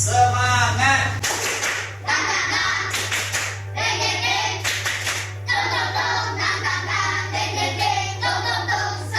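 A classroom of schoolchildren claps out a rhythmic spirit clap, bursts of hand claps in patterned groups filling the room at close range, with a steady low hum underneath.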